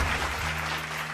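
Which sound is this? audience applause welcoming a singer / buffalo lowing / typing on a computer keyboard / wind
audience applause welcoming a singer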